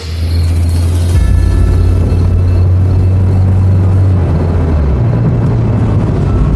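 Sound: car approaching

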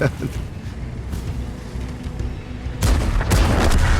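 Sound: artillery fire in a tank video game

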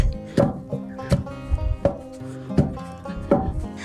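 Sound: pounding poppy seeds until soft

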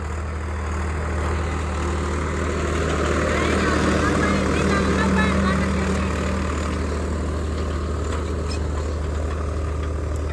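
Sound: tractor engine running

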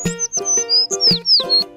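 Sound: red bird chirping, sound effect in read-aloud

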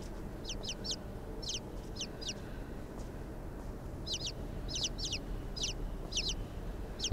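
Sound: little birds (chickens) in the video game Inside

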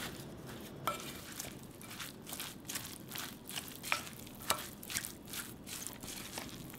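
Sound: mixing shrimp and Asian chive dumpling filling

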